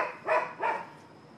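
Two sharp dog barks a short way off outdoors, spaced about a third of a second apart, then quiet.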